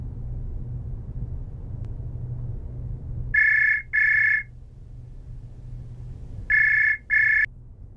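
A telephone rings during a phone call, two paired electronic trills sounding twice with a pause between them over a low background hum, with no talking.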